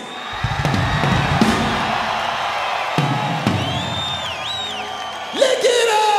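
Concert crowd at a show cheers and shouts, a broad roar with scattered whoops and yells near and far, plus a few high whistles toward the end.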